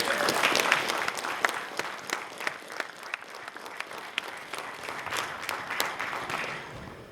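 An audience of families applauds after an 8th grade school declamation, steady clapping from many hands in an indoor hall, fairly close and sustained for several seconds without talk.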